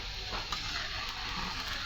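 Hot water poured into a large wok hisses with a soft, steady sizzle, close by and fairly quiet, running alone for a couple of seconds.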